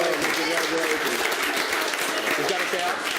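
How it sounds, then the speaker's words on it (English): Audience applause at a casual get-together, a steady patter of clapping from a small group, fairly close, with a voice talking over part of it. "Round of applause."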